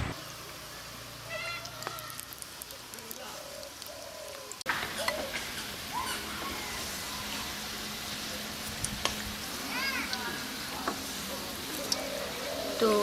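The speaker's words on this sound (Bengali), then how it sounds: "তো এখন একটা একটা করে পিঠা আমি তেলের উপরে দিয়ে দিচ্ছি।" Keema puli pitha, a Bengali dumpling, frying in oil over low heat, giving a soft, steady crackle and sizzle with scattered small pops, faint and continuous.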